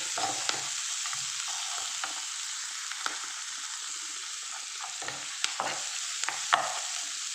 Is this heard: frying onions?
yes